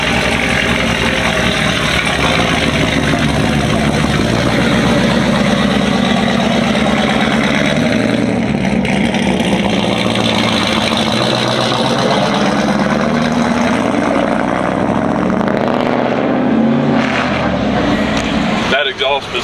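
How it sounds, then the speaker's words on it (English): A loud car engine with a rebuilt, cammed setup and a loose exhaust idles and revs nearby, a heavy droning exhaust note rising and falling, with people talking over it. "I can't even talk while it's running because it's so loud."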